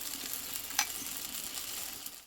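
A flat tiffin made from wheat flour and potato fries in a pan, giving a soft continuous sizzle, close and moderate, with one brief scrape midway before the sound fades out.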